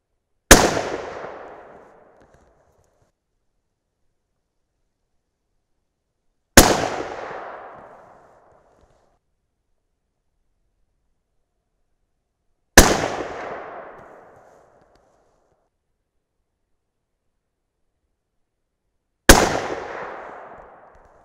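Four loud, evenly spaced rifle shots from a .300 Win Mag firing 190 grain Federal Gold Medal Match ammunition, each a sharp crack followed by a long decaying boom, with silence in between.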